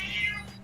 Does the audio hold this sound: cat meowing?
yes